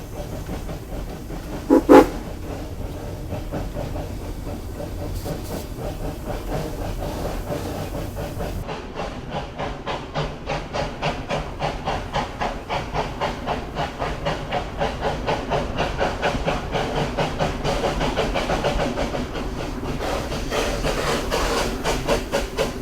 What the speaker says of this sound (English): You're carried along smoothly, riding on the 30-inch gauge line.